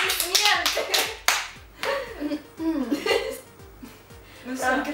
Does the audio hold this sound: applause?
yes